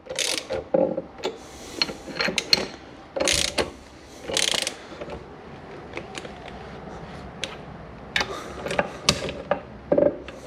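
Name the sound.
engine bearing squeaking on shaft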